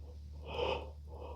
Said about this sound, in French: peut-être qu'on s'autorise à bâiller une toute dernière fois